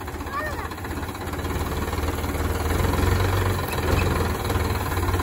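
A heavy vehicle engine runs steadily with a low rumbling drone that swells slightly as the accelerator is pressed, while people talk over it nearby.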